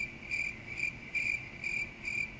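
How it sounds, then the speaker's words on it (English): Crickets chirp as a comic sound effect after a joke falls flat at a virtual awards gala, five evenly spaced bright trills over quiet background. "I hear crickets."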